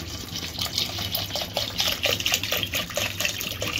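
Water pours steadily onto washed rice in a cooking pot for jeera rice, a close, continuous gushing and splashing fill that lasts the whole moment with no talking.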